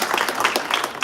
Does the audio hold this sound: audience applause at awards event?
yes